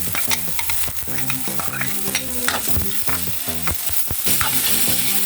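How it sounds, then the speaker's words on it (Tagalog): Onions frying in oil in a pan, with loud steady sizzling and repeated scraping stirs from a utensil throughout, close up and with no talking. "Maglagay tayo ng mantika sa kawali. Lagay na natin yung ating sibuyas."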